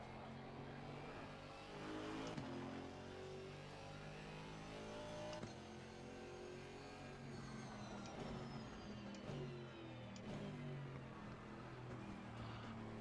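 Aston Martin GT4 race car engine at Suzuka in a racing sim, a steady loud drone with layered harmonics rising and falling through gear changes and throttle lifts, continuous throughout with no talking.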